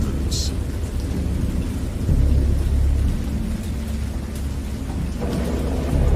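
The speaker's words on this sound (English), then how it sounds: "thunder and lightning" A thunderstorm rages in the PC adventure game Dagon, based on H.P. Lovecraft: heavy rain pours steadily while deep, loud thunder rumbles roll underneath, swelling and easing in waves.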